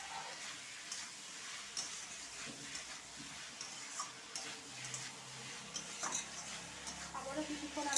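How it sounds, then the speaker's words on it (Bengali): Chopped capsicum sautéed with tomato masala in a pan, a continuous close sizzle with repeated stirring scrapes and light clinks of a spoon against metal throughout. "আবারও কিছুক্ষণ আমি কষিয়ে নেব ভালো করে"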